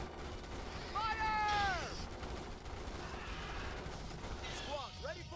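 Gunfire in the strategy video game Starship Troopers: Terran Command, dense and fairly distant crackling volleys running steadily under battle noise and whistling tones.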